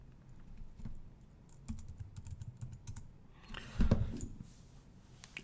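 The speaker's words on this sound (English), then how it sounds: "I'm going to type show IP interface" Keys on a computer keyboard are tapped to enter a router command in a networking lab. The clicks come in quick irregular runs and are close and clear, with a louder burst of key strikes near the end and no talking.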